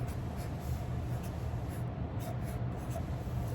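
Pencil or marker drawing music notes on paper, a soft, continuous scratchy scribbling close up, with short strokes repeating and no one speaking.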